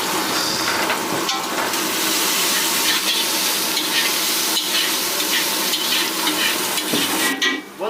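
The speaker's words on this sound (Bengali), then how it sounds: "বন্ধুরা মশলাগুলো কিন্তু মোটামুটি ভাজা হয়ে গেছে।" Spices, ginger and garlic frying in hot oil with a loud continuous sizzle, punctuated by occasional stirring scrapes from a spatula, close and steady throughout.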